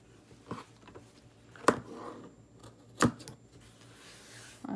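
Scissors snip the fabric corners of a sewn hot pad, two distinct close crisp cuts separated by quiet pauses, with faint handling noise between them.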